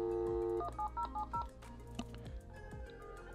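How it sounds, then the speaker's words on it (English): A telephone lineman's butt set, a Tempo TM900, redials a test number: a quick run of crisp DTMF tone beeps, then quieter clicks and line noise as the call goes through, with no talking. "I'll go back off hook, and that will dial the test number again"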